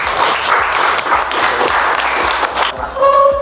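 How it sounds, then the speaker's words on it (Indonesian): Classroom students clapping their hands together loudly and close by for a few seconds in a brisk, roughly rhythmic pattern, ending as a voice begins speaking. "Selama 10 detik tepuk tangan."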